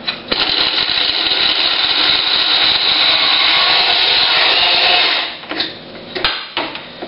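A very small kitchen blender blitzing pieces of a bread loaf into fishing groundbait: a loud, steady grinding whir for about five seconds, then it cuts off, followed by a few short clunks and rattles.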